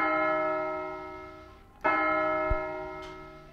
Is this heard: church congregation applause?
no